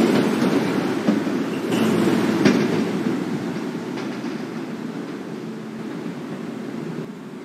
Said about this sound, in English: This is a Kew Gardens Union Turnpike bound F Express train.